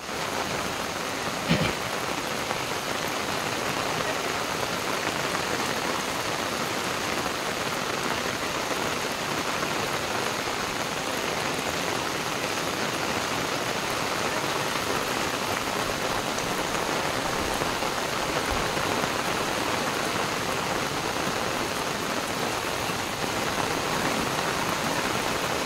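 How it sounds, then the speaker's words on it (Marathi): Heavy monsoon rain pours down steadily over Konkan farmland, a dense, unbroken roar of drops hitting surfaces that stays loud and even throughout with no voices. "बघा कसला भारी पाऊस पडतो."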